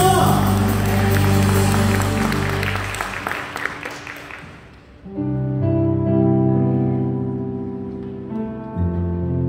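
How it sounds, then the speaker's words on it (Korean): A church congregation claps in glory during a Friday night worship service: dense, steady applause over sustained music for about five seconds, then the clapping fades and the music carries on alone. "우리 영광의 박수 돌리며 나아가십시다"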